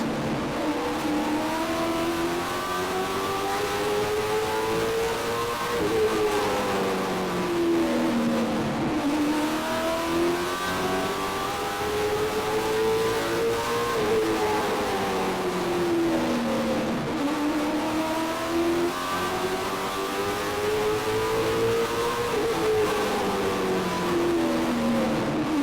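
Race cars screaming around a track in a race, engines revving up and down in repeated cycles as they take corners, loud and continuous with no talk.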